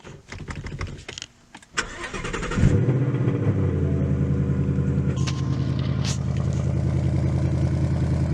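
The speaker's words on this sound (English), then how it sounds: "let's get a cold start on my 2020 Mustang GT" Cold start of a 2020 Ford Mustang GT V8 on the stock exhaust: a few seconds of quiet clicks and handling, then the engine catches with a loud flare and settles into a steady, rumbling idle with a couple of brief blips.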